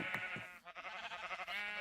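Sheep in the video game Minecraft bleat in a short run of wavering cries. The calls are quiet and fairly close, and no voice comes over them.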